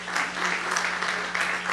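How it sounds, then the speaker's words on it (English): A crowd applauds at a Milwaukee Black Excellence awards event, with dense, steady clapping that holds at an even level throughout the short stretch. "Give yourselves a round of applause."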